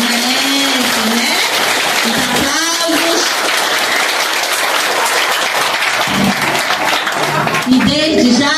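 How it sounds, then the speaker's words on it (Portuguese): Applause from an audience at a municipal school event in Brazil, steady dense clapping sustained throughout, with voices and cheers rising over it now and then. "merece ou não merece uma salva de palmas?"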